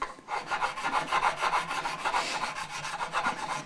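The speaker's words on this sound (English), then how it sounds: "the sanding process will remove the last little bit" Steady back-and-forth rasping of abrasive on metal frets of a Fender USA Stratocaster, a quick rhythmic scrubbing that continues without pause, close up and fairly loud.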